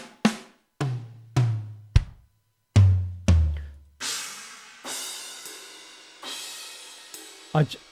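A few deep drum hits, then several sampled ride cymbal strikes from Steven Slate Drums 5 that wash out with long shimmering decays, played alone with no voices.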